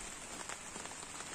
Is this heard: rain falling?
yes